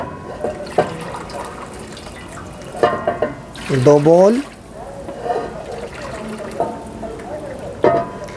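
Stock liquid pours in splashing bursts into a large pot of Afghani pulao in a restaurant kitchen, with someone talking over it throughout.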